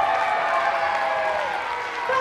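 An audience at a primary school interhouse music competition claps in steady, sustained applause that fills the whole moment at an even loudness.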